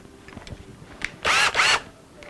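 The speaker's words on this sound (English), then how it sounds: "I'm going to step up this drilling operation" A brand new bit drills into the body of a 1964 Gibson ES 335 replica guitar in a workshop, giving two short, close, high-pitched whirring bursts separated by a brief pause, with quiet room tone around them.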